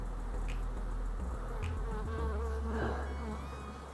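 Honey bees buzzing around an opened hive during brood and frame work, a dense, continuous drone with individual insects whirring close past, quiet but steady over a low background rumble.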